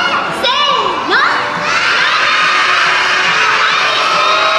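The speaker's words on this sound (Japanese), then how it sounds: "マナー、アリスと大きな声で叫んでください。" A crowd of young children at a live Doki Doki! Precure stage show yells a character's name together in one loud, sustained shout that fills the whole clip, with a few high voices standing out above the rest.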